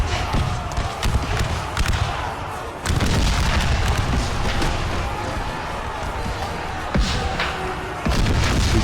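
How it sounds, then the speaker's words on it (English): Musket volleys in Hardcore American Civil War, fired point blank between lines: dense, loud overlapping booming shots in bursts, with heavy blasts around three and seven seconds over a continuous roar of battle. "Oh man, they're firing point blank to each other."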